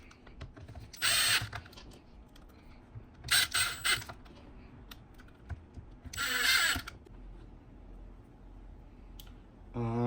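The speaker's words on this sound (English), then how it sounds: "And then you're gonna put the little screws, the tiny ones." A small electric screwdriver drives tiny screws into a JBL Boombox speaker during a battery replacement, three short whirring bursts spaced apart, with light clicks and handling between them, close and moderately loud.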